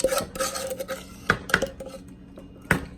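A spoon clinks and scrapes against a mixing bowl while eggs are stirred into a melted chocolate mixture, giving irregular knocks with a few sharp clanks against the rim, close and alone.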